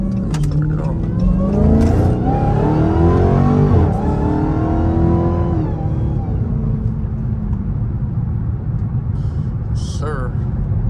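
A Dodge Hellcat accelerating on the highway in early morning traffic, its supercharger whine rising in pitch over a loud, steady engine roar heard from inside the car, easing off after a few seconds; someone speaks briefly.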